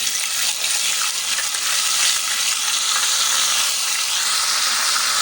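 Ginger garlic paste sizzling in hot oil for a dhaba-style dal, a steady bright hiss of frying that carries evenly from start to finish with no voices.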